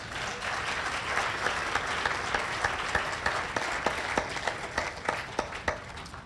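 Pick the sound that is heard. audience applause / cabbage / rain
audience applause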